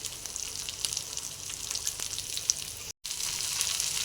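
Ridge gourd peel sautés in oil for a village-style chutney, giving a soft, even sizzle with light crackle that drops out for a moment, then resumes.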